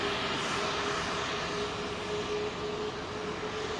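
A Malaysia Airlines airliner at Heathrow makes a continuous, fairly loud jet rumble and hiss with a thin steady tone, easing slightly toward the end, with no speech.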